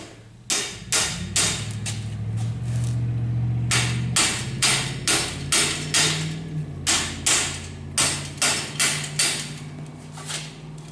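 A hammer taps a metal chain repeatedly, sharp ringing strikes in irregular bursts, close and loud, with a low mechanical hum underneath.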